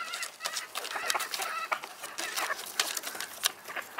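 A yellow hen from a backyard flock clucking repeatedly in short, bright bursts, close and fairly loud, with other fowl chattering alongside and no talk.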